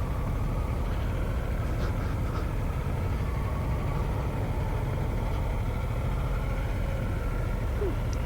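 Harley-Davidson Sportster S motorcycle pulling away on the clutch alone with no throttle, a steady low engine rumble running continuously under road and wind noise.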